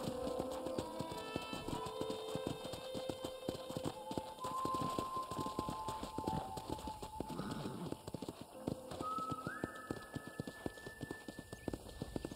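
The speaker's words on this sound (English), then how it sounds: "let's see if you can still ride a horse" Horse hooves clip-clop steadily as a rider travels across a ranch in the video game Red Dead Redemption, a continuous rhythmic trot under loud background music.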